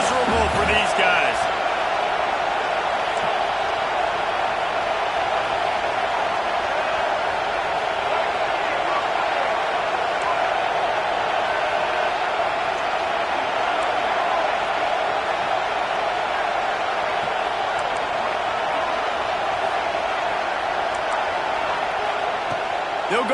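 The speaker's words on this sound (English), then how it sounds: "This crowd going to try to make life miserable for these guys." A stadium crowd roars continuously in College Football 26, a steady dense wash of cheering under a play-by-play commentator's voice.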